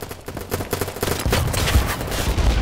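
Rapid bursts of automatic gunfire from a free online shooting game, loud and dense, the volleys growing heavier and more continuous partway through with no talk over them.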